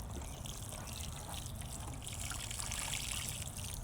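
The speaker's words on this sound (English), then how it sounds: "Okay, put a bunch of water in there." Water pours steadily into soil around a newly planted pumpkin plant in a garden, a continuous close trickling wash with no pauses.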